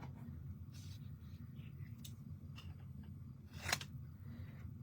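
Scissors snip through a piece of card in a quiet craft room, a few soft cuts with one sharper, brighter snip near the end, faint and close over a low steady background hum.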